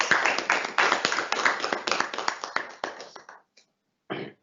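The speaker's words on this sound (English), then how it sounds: "all these people deserve a big clap for." Hand clapping from a small indoor audience at an official address, dense and steady for about three seconds, then tapering to a few last claps, with a short separate burst near the end.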